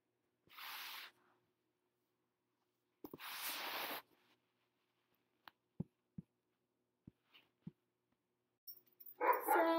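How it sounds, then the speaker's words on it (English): A dog gives two separate barks a few seconds apart in a quiet room, followed by scattered light clicks and taps. "Sorry about the barking."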